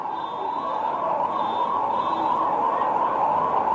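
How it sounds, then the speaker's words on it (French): Sirens wailing outside a football stadium during a World Cup qualifier between DR Congo and Senegal, a steady continuous wail beneath the broad roar of the crowd, with no speech. "on entend autour de la pelouse les sirènes"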